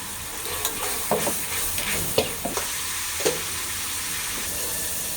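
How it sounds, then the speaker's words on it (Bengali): Onion, ginger and garlic paste is stir-fried in a pan with a steady sizzling hiss, while a utensil scrapes and taps through it in a few irregular strokes, close by with no talking. "পেঁয়াজ বাটা আর আদা রসুন বাটাটা একসাথে কষানো হবে"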